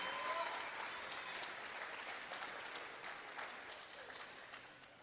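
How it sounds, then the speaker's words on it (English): A graduation ceremony crowd applauds, a broad, even wash of many people clapping that holds steady throughout and fades slightly, with a hint of voices in the crowd. "Please give him a big round of applause."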